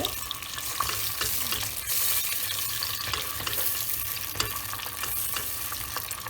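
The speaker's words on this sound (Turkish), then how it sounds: "1 yemek kaşığı biber salçası ve 1 yemek kaşığı domates salçası koyup güzelce kavuruyoruz" Pepper paste and tomato paste cook in melted butter for a Turkish arabaşı soup, giving a steady close frying sizzle with occasional stirring scrapes throughout and no voices.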